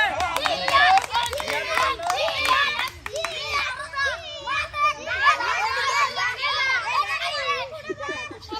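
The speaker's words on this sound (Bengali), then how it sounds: "হাত তালি" Hand clapping at a traditional Bengali pot-breaking children's game (Haribhanga), mixed into a loud, busy scene of children shouting and playing close by, with claps scattered under the constant chatter.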